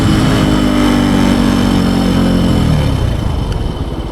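A Benelli TNT135 motorcycle engine revs hard while riding, a loud, close, buzzy drone that holds high RPM and then winds down near the end.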